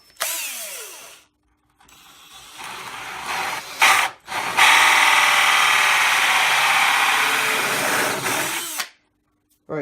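A power drill bores through wood while building a router table, whirring loudly in long sustained runs broken by short pauses and a brief stop midway, with no talking.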